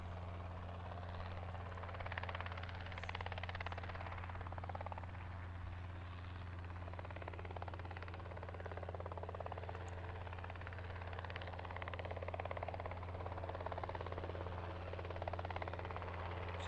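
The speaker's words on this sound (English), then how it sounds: "Can you hear the helicopter at all?" A helicopter near Lancaster Airport in Pennsylvania gives a steady, low rotor drone throughout, fairly distant and faint, with no talking.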